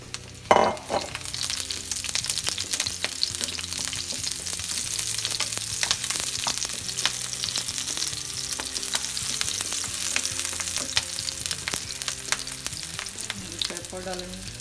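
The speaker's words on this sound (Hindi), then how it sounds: "अभी हम इसमें अपना जिंजर डालेंगे सबसे पहले। तो हल्का सा ब्राउन करेंगे।" Ginger and green chili sizzle steadily in oil in a pan for an Italian pasta dish, with frequent close scraping and tapping of a spoon stirring through the crackling.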